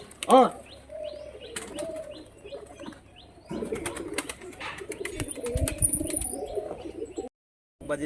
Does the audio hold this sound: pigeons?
yes